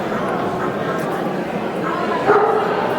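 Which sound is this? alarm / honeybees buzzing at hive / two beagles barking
two beagles barking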